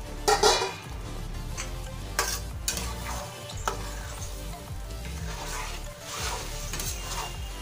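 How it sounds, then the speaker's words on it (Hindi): Boiled kidney beans being stirred into sizzling, frying masala in a pan, with steady frying crackle and repeated scraping stir strokes and utensil clinks close by, with no talk. "अब उबले हुए राजमे को डालेंगे।"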